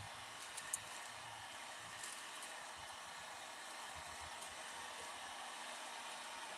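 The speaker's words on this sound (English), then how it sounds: "So get a heat gun if you're gonna do it." A heat gun blows hot air to shrink gift wrap, a steady, even hiss of airflow that holds level throughout with a few faint clicks near the start.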